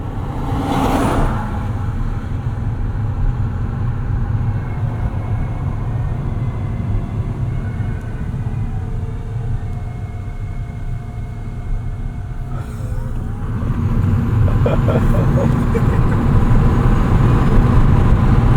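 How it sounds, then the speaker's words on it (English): A truck roars past a 2024 Fiat 500e, its rumble building and then surging louder near the end, with no talking. "Wait for this truck to pass us too"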